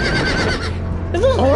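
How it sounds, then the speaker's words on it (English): A horse neighs in a drawn-out whinny with rising and falling pitch, loud and close, over a busy Game of Thrones video game soundscape with a steady low hum. "Is this horses?"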